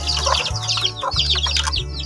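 Chickens on a free-range farm cluck and squawk while being given regular feed, with busy overlapping calls over a steady low mechanical hum.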